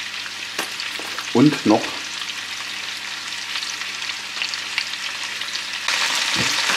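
Root vegetables and tomato paste fry in a hot pan, giving a steady sizzling hiss under occasional stirring scrapes, close by, with a brief spoken phrase early on and the sizzle growing louder near the end.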